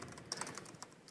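Keys clatter on a computer keyboard as someone types a rich text document on a Windows machine, a quick run of light, uneven clicks heard close and fairly quiet.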